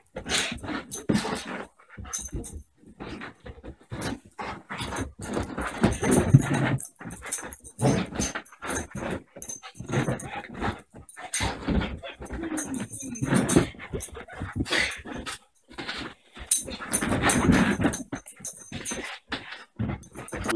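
A lively pet dog pants and whimpers up close in a home, with restless breathing, whines and occasional jangling over a steady noisy background.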